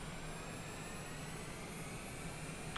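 A jet airliner's engines hum steadily in Microsoft Flight Simulator as throttle is increased for taxi, giving a faint, even, continuous whine with no voices.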